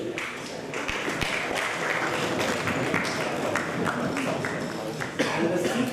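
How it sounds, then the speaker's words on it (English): Audience clapping in a lecture hall during a talk on happiness, a fairly close mix of scattered and overlapping hand claps with a few sharp thumps, sustained at moderate level. "Give a clap to the rock stars."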